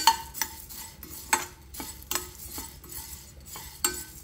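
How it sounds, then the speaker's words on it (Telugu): Coriander seeds dry roasting in a pan, stirred in a slow, regular rhythm of sharp scraping strokes with faint rattling in between, close and fairly quiet, no talk. "ముందుగా ధనియాలు వేయించుకోవాలండి"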